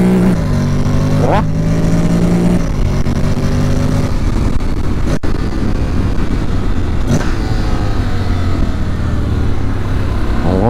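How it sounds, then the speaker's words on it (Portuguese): A Honda X-ADV motorcycle engine revs loudly up and down in close range at Interlagos, its pitch rising and falling through several throttle blips over a constant rumble. "o ronco desse motor é muito legal"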